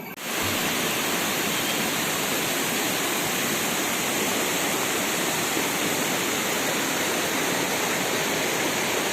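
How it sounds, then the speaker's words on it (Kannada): Mattavu Falls at Kabbinale roars in dense, steady white-noise rush from the start, loud and unbroken, with no voices, set in surrounding forest. "ನೀರಿನ ಸೌಂಡ್ ನೋಡಿ ಎಷ್ಟು ಚೆನ್ನಾಗಿ ಬರ್ತಾ ಉಂಟಲ್ಲ"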